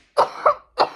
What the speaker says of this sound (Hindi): ये खांसी मुझे बातें नहीं करने देती